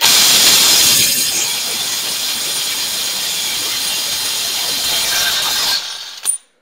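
A G Tools impact wrench, rated at 550 Nm and 4200 rpm, loosens a bolt with a loud rattling hammering burst lasting about six seconds, then cuts off abruptly with a brief clunk.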